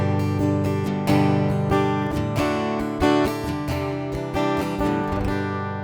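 Acoustic guitar played through a piezo pickup with flat EQ into an LA Studio compressor, strummed in steady, even chords with bright attack, close and clear with no voices.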